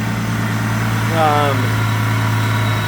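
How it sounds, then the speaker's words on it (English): A turbocharged Nissan Xterra engine idles with a steady low hum that runs the whole time, while someone talks briefly over it. "Let me kill the engine real quick"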